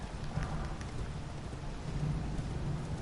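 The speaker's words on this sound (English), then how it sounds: "It is raining" A steady hiss of rain falls in a PS4 video game, a dense, even wash of noise with no gaps and no voices, fairly quiet throughout.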